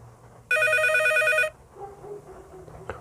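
A phone in a mobile horror game rings with one loud electronic trill lasting about a second, followed by a quieter, muffled tone and a faint click.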